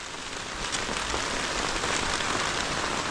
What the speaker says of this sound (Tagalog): Tubig ulan.